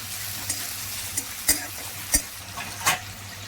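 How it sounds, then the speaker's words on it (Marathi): Potatoes frying in oil with curry leaves crackle in a continuous sizzle, punctuated by a few sharp clicks and scrapes of a spatula against the pan, close and moderately loud, no voices. "बटाटे तेलामध्ये शिजवून घेऊया।"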